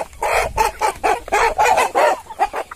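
A large Carijó rooster clucks in a steady run of short, close, fairly loud calls with brief gaps between them, and nothing else competes with it.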